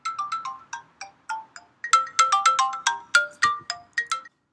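A phone ringtone called Ripples plays alone, loud and clear, as a bright chiming melody of quick repeated notes arranged in rising and falling phrases.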